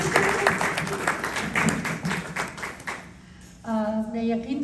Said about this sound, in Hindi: तो ख़ास तालियां